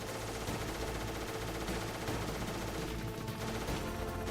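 Rapid automatic gunfire in the video game Metal Gear Solid 3, dense continuous bursts of shots with explosions, loud and sustained without talk.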